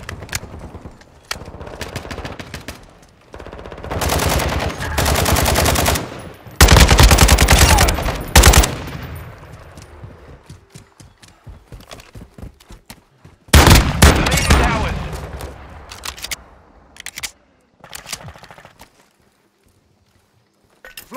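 Bursts of automatic gunfire rattle through a Modern Warfare 2 firefight, with loud sustained volleys and single shots separated by short pauses, tapering to near silence at the end.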